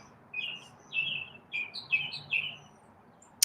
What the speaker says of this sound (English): I like the sound of birds.